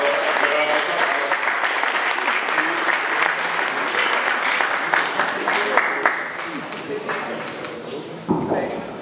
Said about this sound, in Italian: A Federico Fagini, un grande applauso